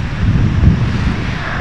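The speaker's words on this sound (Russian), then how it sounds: "ветер холодный" Cold winter wind at the Black Sea shore in Varna, a steady loud roar buffeting the microphone with a low rumble that may hide faint surf, unbroken and without voices.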